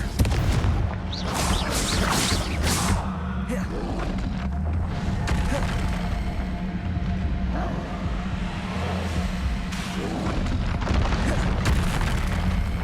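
Confringo fire spell blasts in Hogwarts Legacy, a string of booming explosions in a dense, loud combat mix, with hits landing every second or two over continuous rumble.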